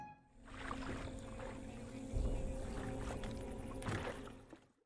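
A small boat moves off across the water, with a sustained engine or hull wash sound that swells and fades as it goes, heard alone without talk.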